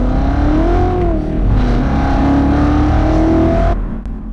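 A ten-year-old naturally aspirated enthusiast car revs under acceleration, the engine note loud and close, its pitch climbing and dipping with gear changes before cutting off abruptly near the end.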